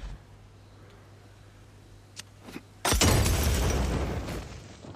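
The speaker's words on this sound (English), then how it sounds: "That's a pipe bomb, Tony." In the video game Days Gone, a sudden loud pipe bomb explosion bursts after a quiet stretch with a couple of faint clicks, followed by a long rumbling, crackling decay of debris.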